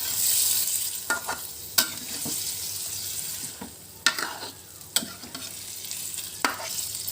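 Beef cooking with spices in a pan, giving a soft background simmer broken by several sharp, close scraping stirs spaced irregularly, no voices.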